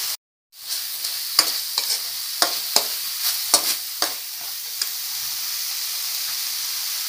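Chili powder gets stirred into frying cauliflower egg kurma, a steady sizzling hiss punctuated by a series of sharp spoon scrapes and taps against the pan, close and clear with no talk.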